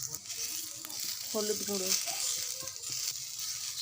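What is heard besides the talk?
spices frying in a pan while being stirred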